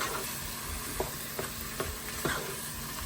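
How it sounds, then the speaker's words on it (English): Guinness chilli mixture with meat being stirred in a frying pan over high heat, with a steady loud sizzle and a few soft, evenly spaced scraping strokes. "Give that a good mix round"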